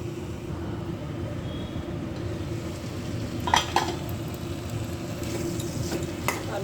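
Bitter gourd masala cooks on low heat in a pan with a steady, soft sizzle, broken by a few light clinks and scrapes as a spoon stirs it.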